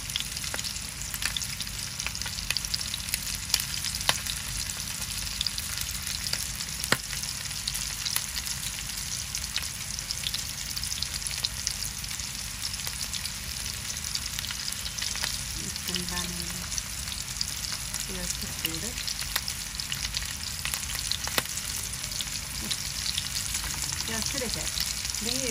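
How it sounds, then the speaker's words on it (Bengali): Pumpkin flower fritters frying in hot oil, a loud, dense, crackling sizzle that runs unbroken throughout, close up, with a few faint background voices partway through. "কুমড়ার ফুলের বড়া গরম দেওয়া হইতে আছে তেলের মধ্যে"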